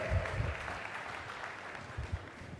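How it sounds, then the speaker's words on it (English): A sales conference audience at CWAY Anaheim 2011 applauds a gentleman with a steady wash of clapping that lasts the whole moment, with a few low thumps underneath. "Round of applause for this gentleman right here."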